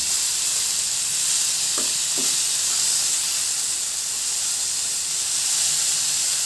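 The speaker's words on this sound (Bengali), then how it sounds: "তো এই যে আমার আলুটা ভাজা হয়ে যায়।" Potatoes frying in oil in a pan for a naga chili and small fish curry, a steady loud sizzle and hiss running throughout with a couple of faint clinks partway through, no talking.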